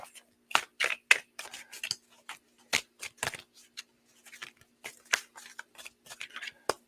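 Crisp riffling and papery flicks of tarot cards being shuffled in quick bursts, close by, with short pauses between shuffles.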